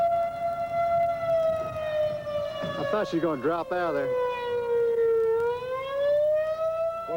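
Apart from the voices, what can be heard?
civil defense siren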